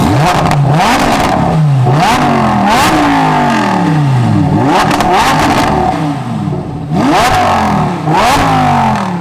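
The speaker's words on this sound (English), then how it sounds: "it's not about the great sound from that V10, which is not overrated at all" Lamborghini Huracan Evo V10 engine revs hard and loud in repeated blips, each climbing and falling in pitch, with crackles between pulls and no talking.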